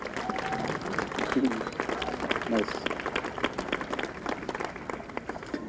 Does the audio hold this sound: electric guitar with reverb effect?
no